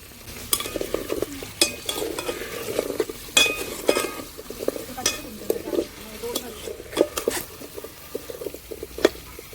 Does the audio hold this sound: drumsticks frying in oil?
yes